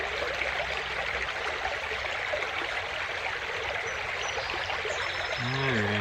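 A small brook trout creek runs steadily, a dense, even rush of water close by with no break, and a faint tonal sound rises near the end.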